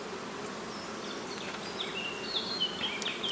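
Honeybees swarm around opened beehives at an acacia apiary while supers are being added, a dense steady buzz close by with individual bees zipping past in rising and falling whines, no talk.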